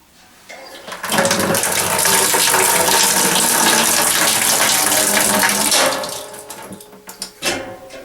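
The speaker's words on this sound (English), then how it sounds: "we have a pair of pliers, or vice grips rather, on the tap, which allows us to access our hot water" Hot water running from a broken tap opened with vice grips, a loud steady rushing gush for several seconds that cuts off, followed by a few knocks and clanks of handling.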